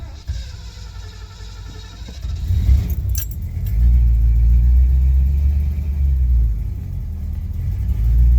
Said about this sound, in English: I'm feathering the gas right now to keep it running.